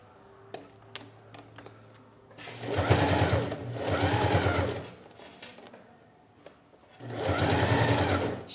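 A sewing machine stitches bias binding onto a clear plastic pouch, running in two bursts of steady rapid mechanical chatter separated by a pause with light clicks and handling, close and fairly quiet.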